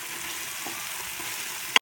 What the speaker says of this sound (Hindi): अच्छे से भून लेंगे. तीन से चार मिनट के लिए इसको भूनेंगे.